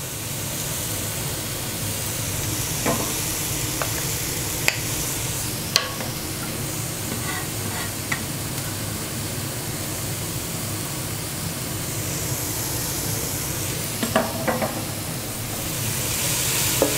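Garlic sizzling in a frying pan for Kässpätzle, a constant close hiss with scattered clicks and scrapes of stirring throughout, no voices.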